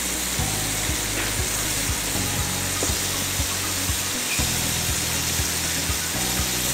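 Chicken skin crisps deep-frying in hot oil until dry, a steady broadband sizzle with faint clinks of utensils now and then, close and continuous with no talking.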